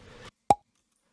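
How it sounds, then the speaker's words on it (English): A single short plop from an M&M candy cylinder, recorded on a Zoom mic, lands after a brief rustle and then cuts to silence. "we have this M&M cylinder sound that I recorded through my Zoom mic"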